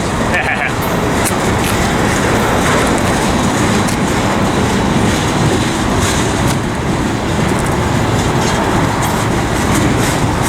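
A Union Pacific freight train rumbles past close by, loud and continuous, with rhythmic clacking of wagons over the rails and voices talking over it.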